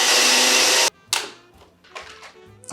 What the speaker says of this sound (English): And now it's time to blend.